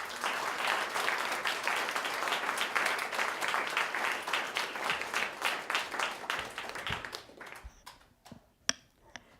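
An audience at a community poetry reading applauds warmly to welcome a poet, steady dense clapping that thins out and fades to a few scattered final claps.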